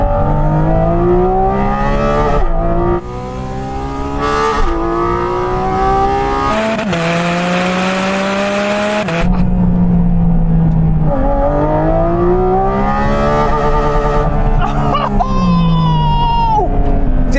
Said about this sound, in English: Just listen to the note change here when it goes from 8 through to 9.